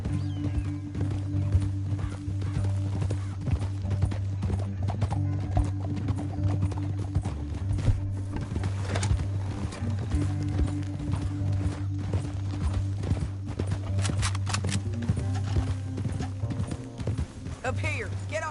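Horse hooves pound at a gallop in Red Dead Redemption 2, a dense continuous clip-clop rhythm mixed with a low rumbling engine-like game ambience, while characters talk over the ride.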